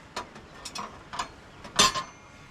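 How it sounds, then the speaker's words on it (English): Small metal thumb screw being fitted into the foot of a rocket stove, giving a few scattered clicks and ratcheting ticks followed by a louder metallic rattle near the end, close and fairly faint. "We're going to put the foot on, run a thumb screw in,"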